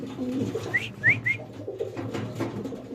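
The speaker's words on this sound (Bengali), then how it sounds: "খুব রেয়ার এক জোড়া কবুতর আছে এখানে" Pigeons at a pigeon market coo and call nearby in a few short, rising notes over a low, murmuring background.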